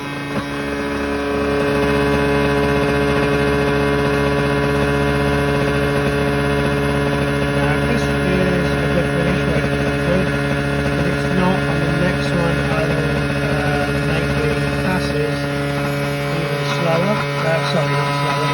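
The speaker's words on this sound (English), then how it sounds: "I'm going to turn the motor up until it gets fit, just until the motor sounds sweet." A CNC spindle motor runs steadily while cutting slowly, giving a loud, constant tonal whine and hum with faint cutting chatter over it, close and without talk.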